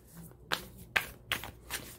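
Oracle cards being shuffled by hand, three or four short crisp riffling bursts spaced about half a second apart, close and fairly quiet with no talking.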